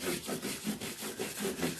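Guitar frets are rubbed with micromesh abrasive during a hollow body guitar restoration, giving a steady back-and-forth rasping rhythm of about six strokes, close and clear, with no voices.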